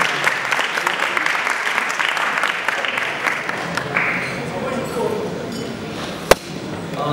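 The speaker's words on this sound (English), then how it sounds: "let's give the 18 Com a round of applause again" Guests at an annual dinner event give a committee a round of applause, a loud burst of many hands clapping that thins and fades over several seconds, ending in a single sharp knock amid murmuring voices.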